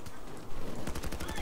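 Rapid gunfire in Payday 2, a quick burst of several close shots in fast succession over game noise.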